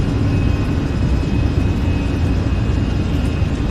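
Steady roaring jet engine noise from a Fenix Airbus A320 during its takeoff roll in Microsoft Flight Simulator 2020, a loud continuous broadband rumble with a faint high whine and no talking.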